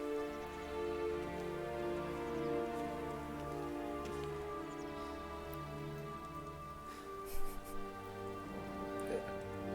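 Steady rain falls in The Witcher 3: Blood & Wine, a continuous wash of drops over a bed of game music, with a few brief louder spatters near the end.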